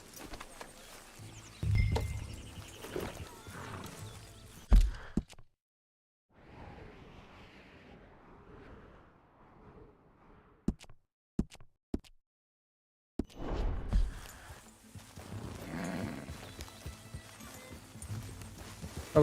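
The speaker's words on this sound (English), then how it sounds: "O cavalo não quer andar?" Horse hooves clip-clop steadily in the Red Dead Redemption 2 video game, with a whinny and outdoor ambience, broken by silent gaps and a few sharp clicks.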